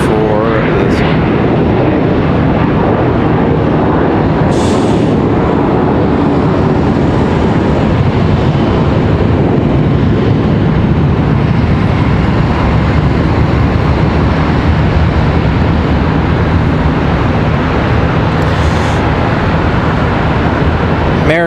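An American Airlines jet, flight 370 from San Jose, at Charlotte Douglas International Airport gives a loud, steady broadband engine roar that fills the whole stretch, with a voice talking over it.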